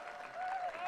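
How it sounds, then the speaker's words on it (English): Crowd applause for young athletes at a youth sports festival, a steady wash of clapping heard faintly with a tonal hum over it. "We're having another round of applause here in the commentators box also."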